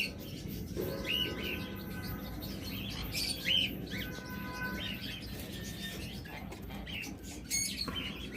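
Tame pet conures in a breeding pair giving repeated short chirps and harsh calls at moderate distance, over a constant low background hum.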